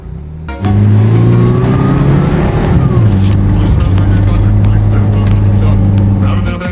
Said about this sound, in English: The engine pulls hard.